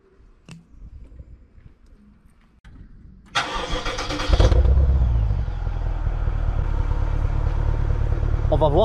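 After quiet talk, a BMW X6M twin-turbo V8 cranks and fires into a loud, deep idle that holds steady as a burbling, rumbling drone.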